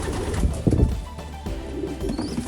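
Young pigeons coo softly in a loft, low murmuring calls overlapping with some shuffling and handling noise nearby, fairly close and continuous.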